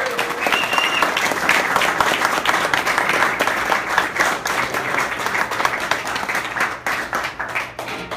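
A crowd at a music producers' beat camp event claps and cheers loudly and continuously for a guest producer, dense applause filling the room throughout.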